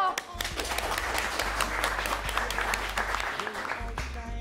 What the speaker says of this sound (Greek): Να το χειροκροτήσουμε αυτό